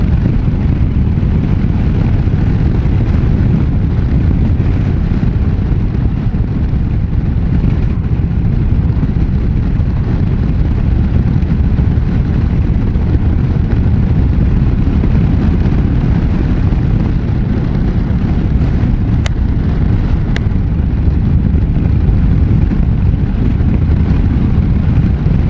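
Harley-Davidson Low Rider ST cruiser engine at speed, around 80 in fifth gear: a continuous loud low rumble mixed with strong wind roar, steady throughout with no breaks, recorded close while riding.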